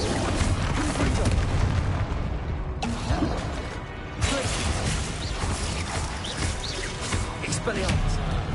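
Confringo explosive spell cast in Hogwarts Legacy on PS5, dense booming blasts and crashes filling the scene at near-constant loudness, with brief shifts as new bursts hit and spoken incantations mixed in.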